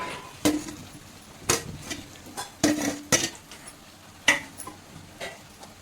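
Ridge gourd curry ingredients are stirred in a pan with a spoon, making sharp metallic scrapes and clinks at irregular intervals, moderately loud against a quiet background.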